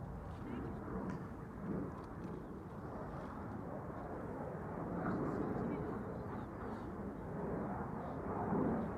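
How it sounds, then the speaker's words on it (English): A KLM Embraer airliner at Amsterdam Schiphol Airport makes a steady, distant jet rumble that swells gently and recedes, with a voice talking over it. "KLM Embraer."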